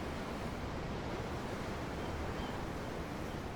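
Steady ocean surf washing continuously aboard a ship's deck in the fantasy RPG Tales of Arise, a broad even wash of waves with no distinct breaks, moderately quiet throughout.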